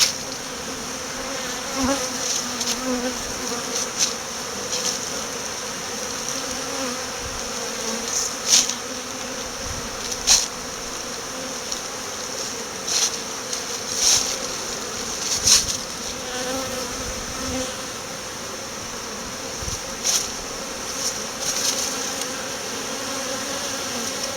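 Honeybees on a cleansing flight outside the hive in poor weather, a steady close buzzing swarm with individual bees zipping past the microphone now and then, no voices.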